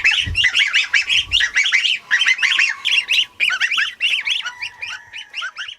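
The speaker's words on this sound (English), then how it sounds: "Pringles are starting to sound like a goose rather than a chick." A young goose named Pringles gives rapid, harsh squawking calls in quick bursts, close and loud, its voice shifting from chick peeps toward a goose honk.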